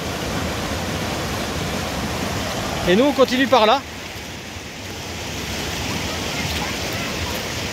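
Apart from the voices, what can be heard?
waterfall in the forest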